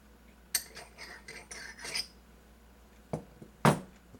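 Glass block handled on a tabletop, giving a few sharp, close clinks and knocks, with one louder hard tap near the end and no talk.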